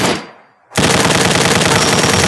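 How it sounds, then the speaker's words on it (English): A hose cannon machine gun fires in Fallout 4 as one continuous, very loud, rapid burst that starts abruptly after a brief fading sound. "Just hose them down with bullets."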